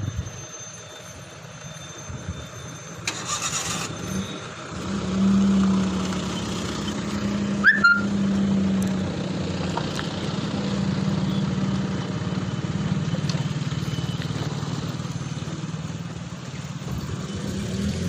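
Car engine running steadily on a hill during a driving lesson, a low continuous hum with slight revving as it is gently accelerated, with a brief click partway through and no talk.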